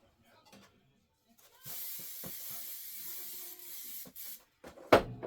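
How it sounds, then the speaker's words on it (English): An aerosol can of spray adhesive hisses in one sustained spray of a couple of seconds, close by, framed by faint clicks and handling noises. "So I'm going to give it a good shot of spray"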